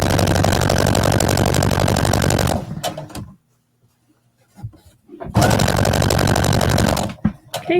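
A home sewing machine stitches a jacket in two steady bursts of fast, even mechanical whirring, pausing between them for a few quiet handling clicks and rustles.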